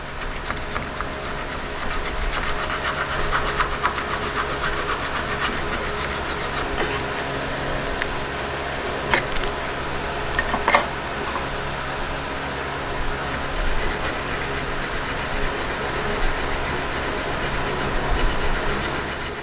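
Small round file rasping against a hidden-tang knife handle, likely wood, in a shop, with steady continuous scraping strokes close up and a few sharper scrapes partway through.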